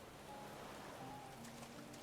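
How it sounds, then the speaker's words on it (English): In Final Fantasy XIV, faint rain falls as a steady, soft hiss with a few light droplet patters, and no voices are heard. "Rain. It's raining."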